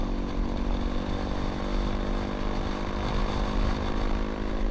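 A Honda CRF250 Rally motorcycle engine drones steadily as it accelerates in sixth gear, a loud, continuous buzzing tone with rushing wind, no voices.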